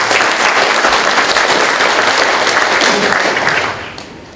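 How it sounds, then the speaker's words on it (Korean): Loud, dense audience applause welcoming a National Assembly member to the stage at a tap-water symposium, sustained and close for several seconds before tapering off toward the end. "큰 박수로 맞이해 주시기 바랍니다"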